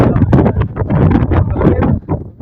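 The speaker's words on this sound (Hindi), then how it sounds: "इतनी तेज हवा चल रही है, इतनी तेज आंधी आ रही है" Strong gusting dust-storm wind with light rain buffets a handheld microphone in loud, irregular rumbling bursts with no pause.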